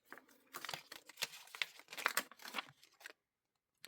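Scissors snip through paper, cutting out a tree shape for a 3D Christmas tree journal spread: close, irregular crinkling cuts with small crunches over about three seconds, then silence.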